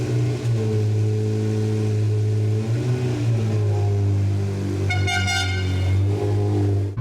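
A Ferrari 348 sports car drives along, its engine droning loud and steady from inside the cabin, with shifts in pitch as it accelerates and a brief high tonal burst near the end.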